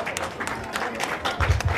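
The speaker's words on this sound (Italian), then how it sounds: "accogliamo con un grosso applauso" Crowd applause welcoming a singer at a charity football event at Villa Nicolas in Marigliano, a brief steady patter of clapping with voices mixed in and a louder swell near the end.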